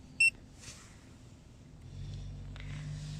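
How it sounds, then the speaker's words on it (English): A single short, sharp electronic beep sounds from a tire pressure monitoring display at the start, followed by quiet handling noises and a low background hum. "Make sure that the sensor is registering the pressure, and you can hear a beep from the display."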